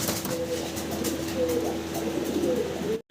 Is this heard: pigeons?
yes